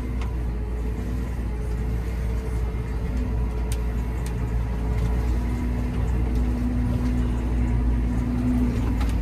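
A new Amazone field sprayer runs steadily while being driven across a field, a continuous low engine drone with a faint hum on top, constant in level and unbroken throughout.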